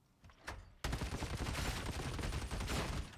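Ogryn heavy gun in Warhammer 40K: Darktide, firing a sustained, dense burst of rapid shots that roars continuously after a brief opening, loud and close with no talk.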